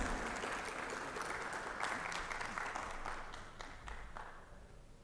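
An audience at an ophthalmology medical conference gives soft, distant applause, a steady wash of many hands clapping that tapers off gradually.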